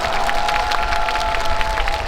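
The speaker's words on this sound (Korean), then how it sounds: "우리 감독님께 박수 부탁드리겠습니다" A crowd at a Busan International Film Festival opening-film stage talk applauds the director with brief, dense clapping and a faint cheering texture, steady and fairly loud throughout the short moment.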